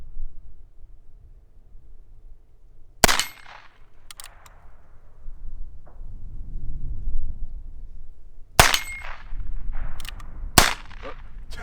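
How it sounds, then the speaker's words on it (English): Gunshots from a .22 Long Rifle fired through a scoped Heritage Rough Rider Rancher outdoors: a sharp crack near the three-second mark, then two more spaced reports late on, each with a short ringing tail over quiet rustle. "The long rifle, 22 long rifle, is shooting pretty good."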